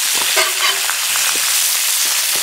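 Rabbit meat fries in a pan while being peppered for lemon-marinated rabbit shashlik, giving a steady, dense sizzle and crackle at close range, with faint scraping now and then and no speech.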